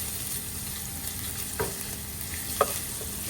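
Lots of ginger sautéing in a pan, a steady low sizzle with a couple of brief stirring scrapes, no voices.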